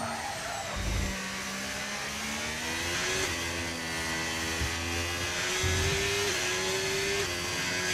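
A Ferrari Formula 1 car in a racing video game screams along at high revs, its engine pitch climbing through gears with brief dips at shifts, loud and continuous with no talk.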